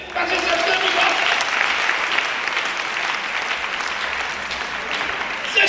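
A church congregation applauding, a dense sustained clapping crowd that stays loud and even throughout, with a voice faintly mixed in.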